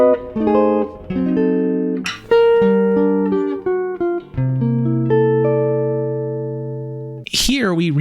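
A jazz guitar plays a chord-melody arrangement of Silent Night, measures 19 to 22, with clean sustained chords and single notes ringing in a slow, gentle phrase, close and clear, ending with a brief bright noise.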